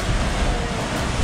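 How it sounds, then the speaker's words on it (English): Ocean surf at a shipwreck beach on Playa Manzanillo in Limón Province, Costa Rica, heard as a steady, full roar of breaking waves mixed with wind rush, with no talking. "Waves are coming."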